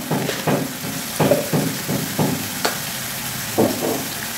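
Ginger paste with cumin and coriander powder sautéed in a pan, a close, fairly loud sizzle broken up by repeated scraping stirs in an uneven rhythm, with no talk.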